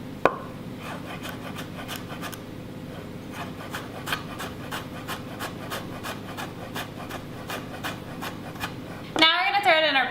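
A knife cuts peeled root into tiny matchsticks on a board, giving a steady run of quick, regular chopping taps, close and crisp, ending in a brief louder scraping rattle.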